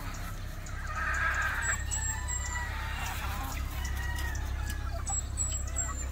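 Hens and broodcocks on a farm cluck and squawk in a busy flock, a few sharper calls rising above a steady low rumble of wind or machinery, moderately close.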